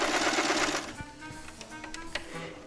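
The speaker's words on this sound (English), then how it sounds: "for our process, we're going to just machine sew it" Sewing machine stitching a fabric tube for a hand puppet, a fast mechanical whirring run at the start that slows into a few uneven clicks and taps, close up with no talking.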